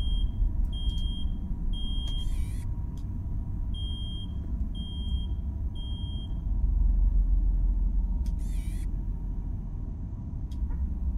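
Repeated electronic alarm beeps in a horror video game, short high tones in evenly spaced pairs and groups over a constant low rumbling drone.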